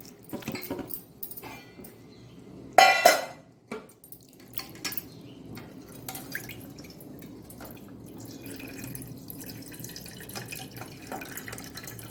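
Red poha is being washed in water, with soft drips and light sloshing near and fairly quiet, plus one brief louder splash early on.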